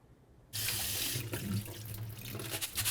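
Basmati rice being rinsed under a running kitchen tap for saffron rice, a steady close rush of water into a sink that starts abruptly and keeps flowing with slight splashy variations.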